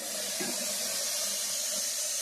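Leafy greens (saag) frying in a pan, giving a steady, close hiss of sizzling that runs evenly throughout, with faint low clatter underneath and no voices.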